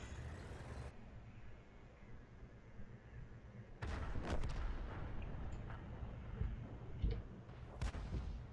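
In World of Tanks, a KV-1 fires a high-explosive round from its tank cannon. A sudden heavy boom rises from a low mechanical rumble, with several further blasts and engine noise rolling on after it.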